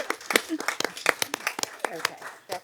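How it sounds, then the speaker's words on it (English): Scattered hand clapping at a school board meeting, brief and fairly close, with a few people clapping in a loose, uneven rhythm to honor an award winner. "Let's clap her."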